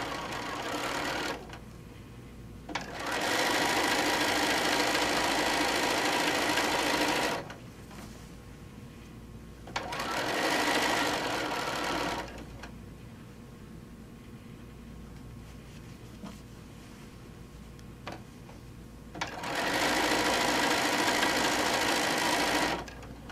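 Bursts of a sewing machine stitching a quilt, steady rapid whirring runs of several seconds each, separated by quieter pauses, close and alone without talk.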